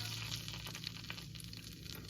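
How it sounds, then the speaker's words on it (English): Steady hissing sizzle of butter in a hot pan, continuous and fairly close, with faint crackles running throughout. "Butter is sizzling."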